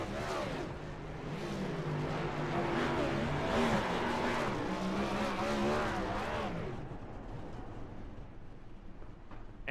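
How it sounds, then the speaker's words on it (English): A race car at a Ford Cup racing series event runs a loud, sustained burnout with squealing tires and a roaring engine that holds steady, then fades slightly near the end. "Strandberg, got to work on his burnouts a little bit"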